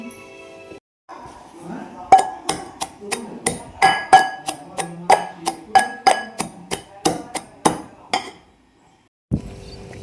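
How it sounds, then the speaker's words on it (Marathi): Roasted lentils are pounded in a mortar and pestle in a home kitchen, with about twenty sharp, evenly spaced strikes that ring slightly, close and loud, and brief background sound at the start and end. "डाळ भाजून घेतली आता आता खलबत्यामध्ये कुटून घेते"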